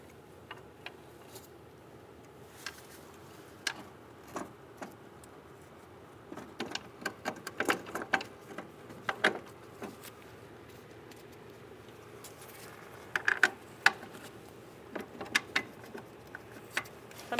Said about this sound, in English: we're going to put our bolts in